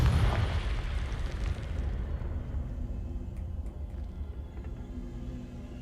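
Confringo explosion spell blasts open a wall in a video game, heard as a loud rumbling burst that slowly thins into a low sustained roar.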